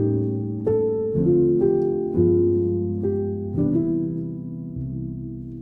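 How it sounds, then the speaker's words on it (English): Piano playing a 3-6-2-5 jazz progression with flat 9 and sharp 11 altered dominant chords, thick dense voicings struck in a relaxed sequence, each ringing out and decaying, unaccompanied and near. "So let's add the flat 9 and sharp 11 to both of those, and it's going to sound like this."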